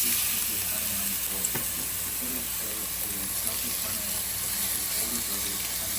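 Food sautéing fast in a hot pan in a home kitchen gives a loud, steady sizzle that never lets up, with a faint voice talking underneath.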